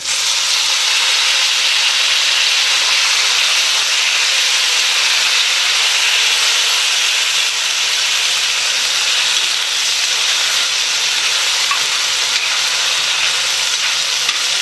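Tomatoes hit hot oil with curry leaves in a kadhai for spicy vermicelli upma, a loud, dense, unbroken sizzle and hiss that holds steady throughout with no speech.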